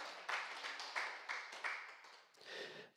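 A church congregation at a Sunday service gives several short bursts of clapping, rising and fading in quick waves, heard at a distance and fairly quiet.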